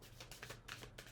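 Tarot cards are shuffled by hand with a quick run of soft riffling and papery slaps in short bursts, close but very quiet, with no talking.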